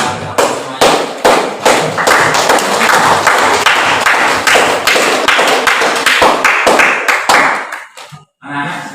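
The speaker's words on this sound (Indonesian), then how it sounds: "Kita aplaus semuanya." A school class bursts into loud, dense applause. The clapping is close and sustained for several seconds, then thins out and stops near the end.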